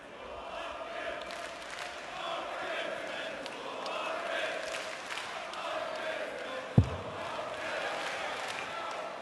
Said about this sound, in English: It's a loud crowd.